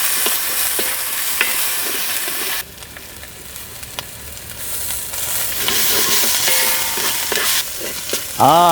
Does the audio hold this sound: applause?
no